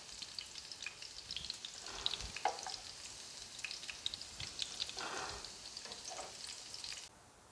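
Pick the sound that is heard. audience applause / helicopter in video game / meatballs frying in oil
meatballs frying in oil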